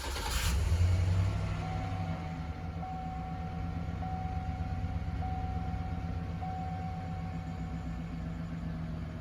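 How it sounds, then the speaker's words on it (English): A truck engine cranks with a short burst, then settles into a steady, moderately quiet idle that holds alone, with a faint intermittent whine above it. "And let's start this truck."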